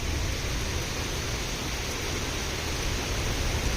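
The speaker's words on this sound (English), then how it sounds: "Listen to that rainstorm" A heavy rainstorm in Mérida, Yucatán, a dense and steady roar of falling rain that fills the whole space with no pauses and no voices.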